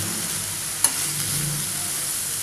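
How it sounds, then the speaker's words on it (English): Garlic and vegetables sautéing in a pan for a cheese tomato pizza topping: a constant close, bright sizzle with a single sharp tap of a utensil partway through. "We don't have to cook these vegetables. We just have to saute for a minute or two."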